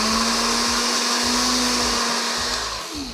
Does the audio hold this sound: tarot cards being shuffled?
no